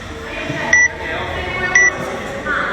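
A timer sounds two short, sharp electronic beeps about a second apart, with a third starting at the end, over a low background hum in a gym during a timed workout.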